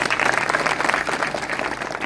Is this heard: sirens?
no